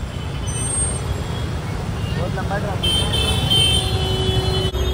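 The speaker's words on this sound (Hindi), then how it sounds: "सो गाइस यहाँ पे बहुत सारा ट्रैफिक है, आवाज बहुत जोर से बोलना पड़ रहा है।" Busy town street traffic rumbles constantly as a low, loud drone, with car horns tooting now and then while people talk over the noise.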